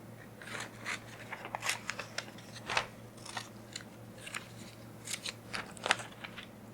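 Scissors snip through a small printed paper scene about 1.5 inches across, a close run of crisp, quiet cuts in uneven bursts with brief pauses between them.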